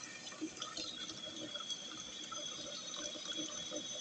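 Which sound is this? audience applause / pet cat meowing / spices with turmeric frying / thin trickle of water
thin trickle of water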